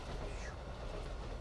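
An Amtrak 170 train in the Train Sim World video game rolls past with a steady, dense low rumble and faint wheel clatter, holding a constant loudness for the whole short stretch.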